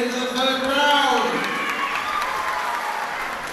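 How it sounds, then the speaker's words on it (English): Crowd applause and cheering between rounds at a women's amateur boxing match, with voices shouting over a dense, steady wash of clapping in an arena. "Let's give both boxers a big round of applause as they head into the third round."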